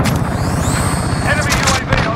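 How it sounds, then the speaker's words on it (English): A grenade explodes in the video game Modern Warfare, a heavy rumbling boom under constant gunfire noise, with a thin high whine and a voice talking over it. "Throwing grenade."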